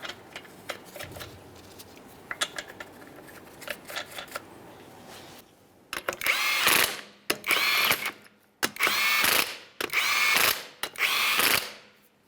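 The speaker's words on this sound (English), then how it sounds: "start on all 5 of your lug nuts, snug them up" Lug nuts are snugged onto a front wheel of a 2013-2020 Ford Fusion: light ratchet clicks at first, then four loud, close whirring tool bursts separated by brief pauses.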